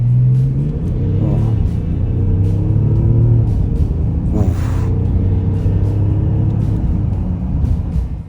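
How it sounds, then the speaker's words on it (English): A 2025 BMW X5 xDrive30d diesel SUV accelerates hard from a standstill, its engine revving loudly and climbing through the gears with a close, strong rumble and whir that stays loud throughout. "I could definitely mash the throttle from standstill"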